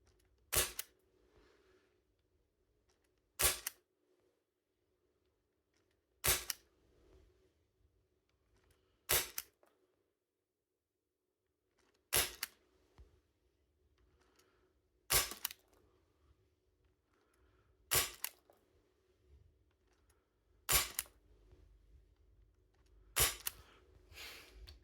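Single crisp shots from a small, light KJW MK1 carbine airsoft gun fired through a chronograph, about nine sharp cracks spaced roughly three seconds apart, with near silence between them.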